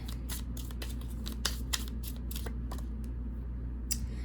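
Tarot cards being shuffled and handled up close, a run of quick crisp riffling snaps and flicks over a low steady hum.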